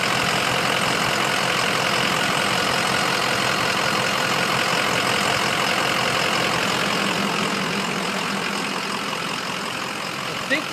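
A vehicle engine idles steadily with the air conditioning running, a constant dense hum and fan wash that holds throughout, close and fairly loud, with no talk.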